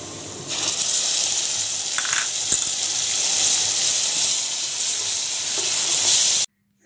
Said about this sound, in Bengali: পেঁয়াজগুলো বেরেস্তার মতো ব্রাউন করে ভেজে নেব।